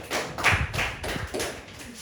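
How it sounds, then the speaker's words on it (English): A small classroom group gives a short burst of scattered clapping for a student, a few uneven claps and taps close by, with faint voices mixed in. "Alright, give Brian a clap."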